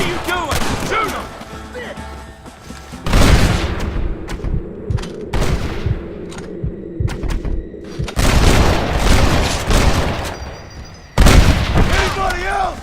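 Explosives blow a gate open in the video game Red Dead Redemption, with loud booms and bursts of gunfire breaking through a noisy battle scene.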